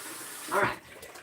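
A household tap on well water lines sputters as trapped air spits out, a brief close gurgling burst of water over a quiet background.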